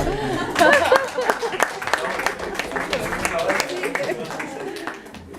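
Audience applause at a book launch for an urban anthropology book, a steady wash of clapping from a room of people lasting several seconds, with voices and chatter mixed through it, tapering off at the end.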